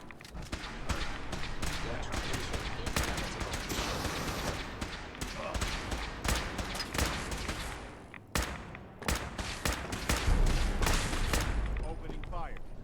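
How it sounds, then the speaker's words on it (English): Sustained gunfire in Fallout 4, a dense barrage of rapid shots and impacts running almost without pause, loud throughout, with a player's voice speaking over parts of it. "Opening fire."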